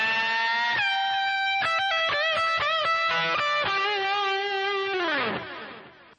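Heavy distorted electric guitar runs through a complete metal lick again, quick picked notes and bends ringing loud and close, ending on a long note that dips in pitch and fades out.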